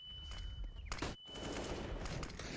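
Rapid automatic gunfire bursts in CS:GO, a dense rattling volley with a brief gap before the shooting resumes.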